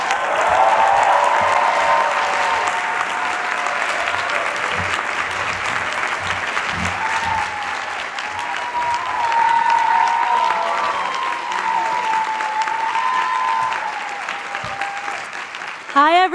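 A large commencement crowd at the Columbia College Class of 2022 ceremony applauds the speakers, steady broad clapping with cheering voices sustained for about sixteen seconds, distant and reverberant like an outdoor gathering.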